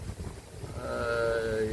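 A cow on a cattle farm lets out a single drawn-out moo, rising and holding steady after a second of low rustling background, fairly close and clear with no talking.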